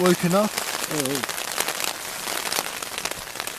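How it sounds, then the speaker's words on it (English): Steady rain patters and crackles continuously on a surface, with a couple of brief tonal, voice-like sounds near the start. "It's been sort of half waking up and listening to the rain. It's raining."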